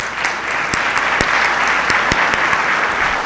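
A church congregation applauds the Lord during a service: sustained, dense clapping from many hands, loud and even throughout with no one speaking over it.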